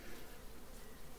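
Honeybees at an opened hive give a steady, dense buzzing hum, close and even, with no talk over it.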